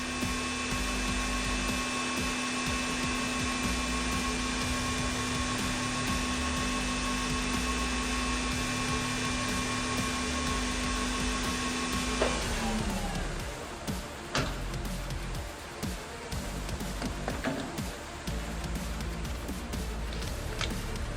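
A Chevalier QP1620L high-speed vertical machining center with a 15,000 RPM spindle gives off a steady, even whine. About halfway through it winds down, leaving a lower hum broken by scattered clicks and knocks.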